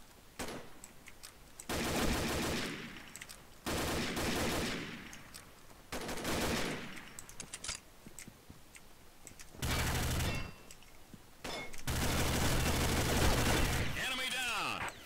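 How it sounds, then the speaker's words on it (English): Guns fire in a shooter video game, with loud bursts of rapid automatic fire that start and stop several times across the clip, separated by quieter stretches. "Why did my gun shoot?"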